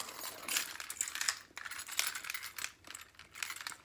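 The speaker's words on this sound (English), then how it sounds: "I just drop my keys in there, leave that unzipped" Keys dropped into a leather key keeper inside an open handbag jingle and clink softly, a few seconds of quiet, continuous metallic rattling with no talking.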